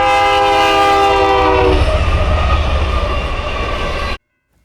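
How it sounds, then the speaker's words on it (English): A train horn blares as heavy rail cars roar past close by, a loud continuous rumble that cuts off abruptly. "we did manage to snag a decent bit of audio of the train as it thundered past this random"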